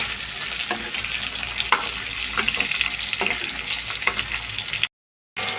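Pieces of fish frying in a pan, a dense, steady hiss of sizzling oil with scattered crackles and occasional scraping stirs, close and loud, then cut off abruptly near the end.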